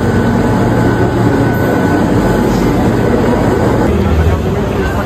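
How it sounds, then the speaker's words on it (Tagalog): Loud, continuous rumble and roar of trains in a railway station in Italy, with a broad hiss and steady low-end drone throughout. "Dito, ito yung mga tren sa Italia."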